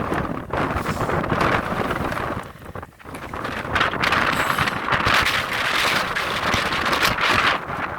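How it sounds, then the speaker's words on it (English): Strong gusty wind on a mountain hiking trail roars and buffets the microphone almost continuously, easing briefly for a moment before surging back loud and close. "Why is the wind even so?"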